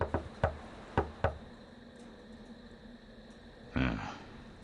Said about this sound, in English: won't open the door unless they hear a special knock.